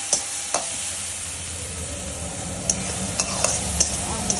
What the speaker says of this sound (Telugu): మళ్ళీ దీన్ని అటు నుంచి ఇలాగా కలపాలి